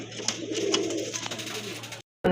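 A pair of uncommon silver-coloured pigeons gives low, throaty coos in a steady run close by before a brief silence.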